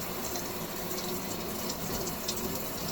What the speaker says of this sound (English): Let me turn this water back on